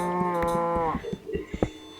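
A cow moos in a blocky crafting video game, one long harmonic low from the start that trails off by about a second, followed by scattered soft clicks and thumps of play.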